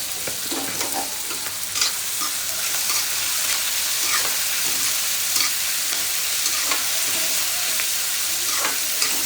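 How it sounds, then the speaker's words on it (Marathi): Large-cut onion and potato fry steadily in a pan, a constant close sizzle with occasional soft scrapes of stirring throughout. "कांदा मोठा कापला त्याच्यामुळे याला वेळ लागला त्याला असं भाजू द्यायला आरामात"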